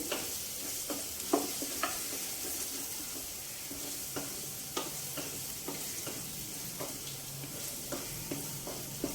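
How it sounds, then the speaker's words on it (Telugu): Ginger and garlic sizzle in a pan while cooking a mutton and dosakaya curry. A steady hiss of frying runs throughout, broken by repeated light scrapes and taps of a stirring spoon. It is close and has no speech. "అల్లం వెల్లుల్లి కూడా వేగిపోయిందండి"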